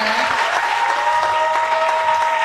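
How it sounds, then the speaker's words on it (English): Audience at a school valedictory service gives the speaker a steady, dense round of applause, many hands clapping together for a couple of seconds with a faint tonal hum underneath. "can I have a big round of applause for the speaker?"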